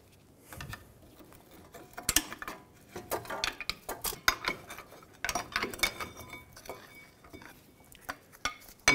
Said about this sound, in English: Using a flat blade screwdriver to help me pry this caliper off. Our caliper is stuck.